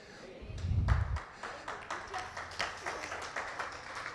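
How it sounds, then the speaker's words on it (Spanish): A church congregation claps in scattered, fairly faint applause with a loose rhythm, following a brief low thump at the start. "El aplauso para el Señor debe ser un poquito más, con más expresión"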